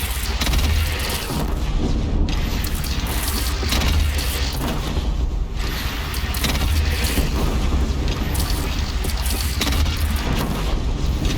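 A lone cannon blasts during a bandit clan battle in the video game Horizon Zero Dawn, producing dense, continuous booming and crackling combat noise that stays loud and heavy throughout.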